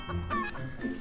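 A goose in a Roblox video game gives a few short, nasal clucking calls, with a burst in the middle and another near the end, close and fairly loud over a busy game background.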